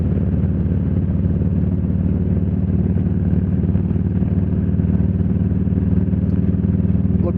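A big motorcycle engine drones steadily while riding on the road, a loud continuous low rumble with a constant, unbroken level and no pauses throughout.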